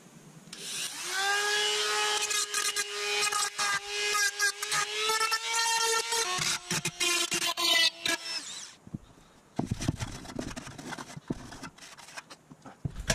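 A Dremel rotary tool grinds sharp edges off a 5 L beer keg, first as a loud sustained whine with a strong tonal pitch, then as rough, stuttering bursts of metal grinding that cut in and out.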